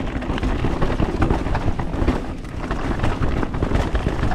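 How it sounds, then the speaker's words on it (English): Continuous rattling and clattering of a custom jump mountain bike jolting over rough ground, loud and close, mixed with wind rush. "I don't know if you can hear my bike right now"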